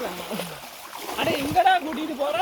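Water splashes and sloshes close by as someone wades on foot through a flooded stretch of road, with someone talking over the uneven splashing steps.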